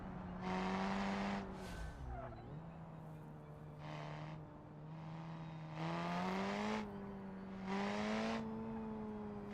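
A car in BeamNG sliding into oversteer, its engine droning and shifting pitch as repeated bursts of tyre squeal and skidding rise and fall over several seconds.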